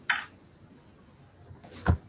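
A single sneeze, a sharp short burst of breath, preceded by a faint snort-like sound, otherwise quiet.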